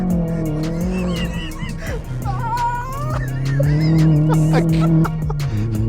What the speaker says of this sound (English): we went out with racing driver Charlie in the Zafira